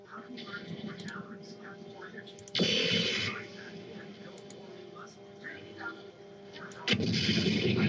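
Mech weapons firing in Mechwarrior 4 Mercenaries: two heavy, blasting volleys, one early and one near the end, over a steady mechanical hum, with talk in between.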